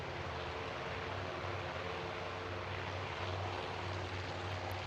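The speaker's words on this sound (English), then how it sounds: "here's the raid incoming to Midway. A lot of aircraft" A large incoming raid of aircraft approaches Midway in the naval strategy game Task Force Admiral, making a steady, droning propeller-engine hum that holds evenly throughout, with no voices.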